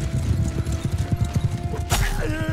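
Horse hooves clip-clopping at a gallop in the Mount & Blade II: Bannerlord medieval battle game, a fast steady rhythm close by, with a brief whinny near the end over battle ambience.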